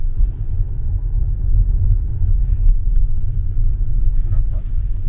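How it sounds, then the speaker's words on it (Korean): A car rolls downhill with the accelerator released, giving a steady low road and engine rumble throughout, close and continuous, with faint talk in the cabin. "악셀을 안 밟고 그냥 내려가고 있잖아."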